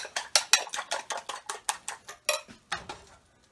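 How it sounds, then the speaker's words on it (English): Eggs and butter being whisked for an omelette, a rapid run of bright metallic clinks of whisk against bowl, about a dozen strokes in steady rhythm, close and clear, slowing and fading at the end. "Give our eggs another whirl."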